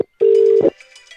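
Outgoing call tone from a Microsoft Teams telephony integration: a single steady electronic tone lasting about half a second, clean and fairly loud, followed by faint residual sound.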